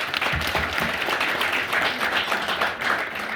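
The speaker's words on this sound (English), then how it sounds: "Can we get a round of applause for parents?" Warm, continuous applause fills the hall at a Brit-Somali graduation ceremony, with a crowd clapping fairly loudly and evenly for the whole short stretch.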